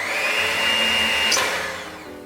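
Electric mixer whirring steadily as it creams butter and sugar for a gluten-free blackberry cream cheese coffee cake, a loud continuous motor drone with a brief higher whine near the end, no talking.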